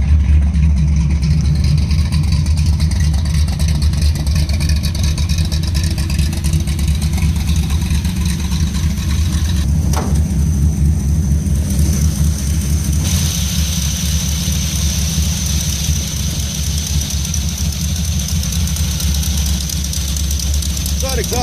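A custom car engine grumbles steadily at idle throughout, a low continuous rumble with a faint exhaust leak, close and loud, with no pause in the drone.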